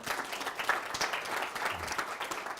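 Audience at an evening event for environmental feature films applauding, a steady patter of many hands clapping at moderate distance, fairly soft and continuous.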